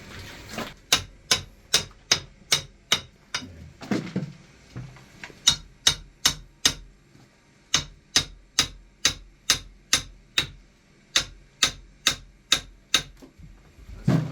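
A hammer strikes a steel bar against concrete in a steady series of sharp metallic blows, roughly two per second, near and loud, with a short pause midway while digging out a flooded bunker pipe base.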